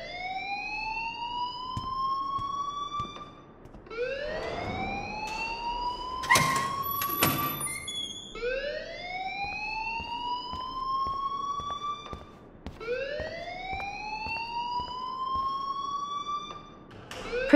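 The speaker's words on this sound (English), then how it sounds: "please turn off that alarm" Fire alarm sounding in the video game Life Is Strange, a loud rising siren-like wail repeating in long sweeping cycles, joined midway by a brief sharper electronic burst, with no speech over it.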